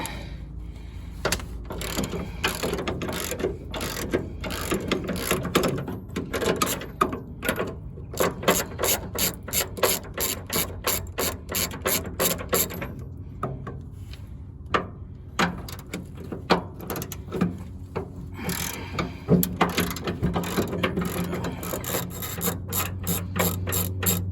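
Ratchet wrench loosening the subframe bolts on a car, loud close clicking in long rapid runs broken by short pauses and scraping, continuing for a long stretch with no talk.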